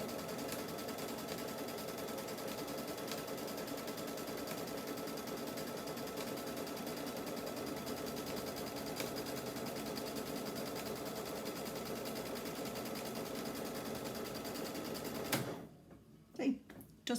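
A sewing machine stitches folded fabric on an heirloom quilt, running steadily and close for about fifteen seconds before stopping abruptly, followed by a few faint handling noises.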